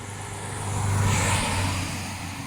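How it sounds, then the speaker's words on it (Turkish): A vehicle, among the minibuses and cars on a road near Maçka in Trabzon, passes by, its engine and tyre noise swelling to a peak midway and then fading, with no talking. "Trabzon Maçka dolmuşları geçiyor."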